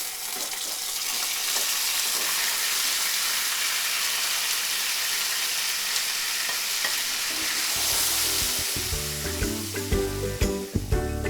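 Chicken pieces drop into hot oil in a wok, raising a loud, continuous sizzle and hiss that carries on, with stirring scrapes and clatter joining toward the end.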